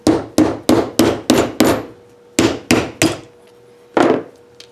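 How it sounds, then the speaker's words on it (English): Dead blow hammer tapping a half-inch wood dowel into a coin ring die: about ten sharp, close knocks in quick groups with short pauses between, loud and clear with no voices. "just slightly tap that with your dead blow hammer"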